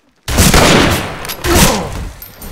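Two heavy shotgun blasts boom out in a Wild West video game, each a loud close burst with a rumbling tail, about a second apart after a brief silence.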